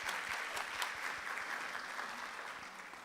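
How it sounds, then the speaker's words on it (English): Audience at a postgraduate research day applauds after a presentation, a steady patter of many hands in a room, fairly quiet and even from start to finish. "then we can give a round of applause."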